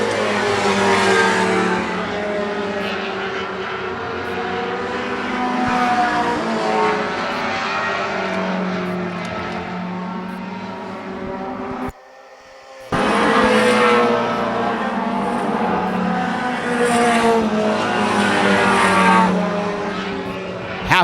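Race cars roar around a racetrack, including Jimmy Childs's No. 10 Mustang, in a loud, continuous engine drone with shifting pitch as they circle. The sound cuts out for about a second in the middle, then resumes.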